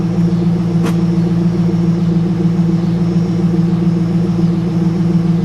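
Steady idle of a 2001 Pontiac Trans Am NHRA Edition with the WS6 V8, a smooth, loud, even rumble held close and constant throughout with no talking, broken only by one brief sharp click.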